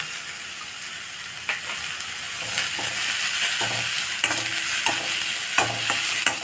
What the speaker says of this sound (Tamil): இந்த வெங்காயம் கொஞ்சம் இன்னும் கொஞ்சம் வதங்கணும்னு இருக்கும் பொழுது இந்த கேப்சிகம் இதில் சேர்த்துடலாம்